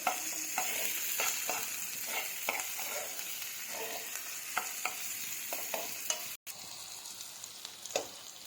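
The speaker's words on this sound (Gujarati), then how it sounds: "હવે તેમાં આપણે ટામેટું એડ કરીને હલાવી લઈશું।" Chopped tomato stirred and sautéed in a pan for a Gujarati masala idli fry, a steady sizzle broken by a series of spoon scrapes and taps, close and fairly loud, with no talking.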